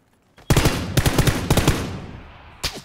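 Gunfire in the battle-royale video game PlayerUnknown's Battlegrounds, heard as loud, close bursts of rapid shots at roughly half-second intervals, a short pause, then one final burst.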